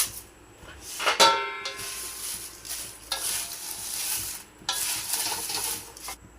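Bay leaf pieces dry-roasting in a large kadhai while being stirred, giving repeated dry scraping and rustling strokes in bursts with brief pauses, close and moderately loud, with no talking.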